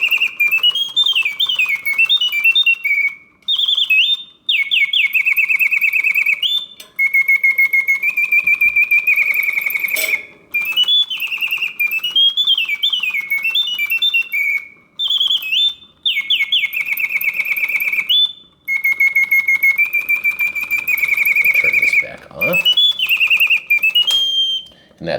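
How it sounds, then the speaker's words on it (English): A vintage 1972 Reuge double singing bird cage automaton pours out loud, continuous warbling whistled birdsong, with rising and falling trills repeated in phrases and broken by short pauses. "a vintage 1972 Reuge double singing bird cage"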